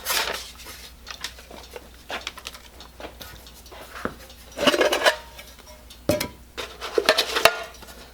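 A metal Coleman camping cook kit, a nesting pot and pan with a handle, being handled: scattered light clinks and scrapes with quiet gaps between them, growing busier toward the end.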